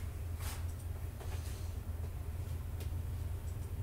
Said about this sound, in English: I don't want to listen to the damn train on air